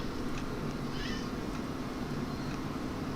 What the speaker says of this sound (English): If you can hear the cat, he's complaining because it's hot.